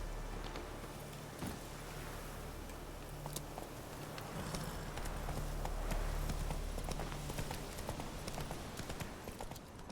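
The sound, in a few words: horse Roach galloping hooves, The Witcher 3 video game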